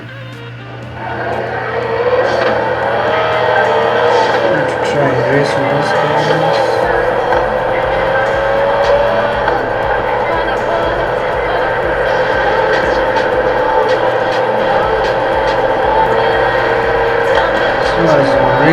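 Racing cars in a video game race give off a steady, loud engine drone with rising and falling whines, continuous from start to finish.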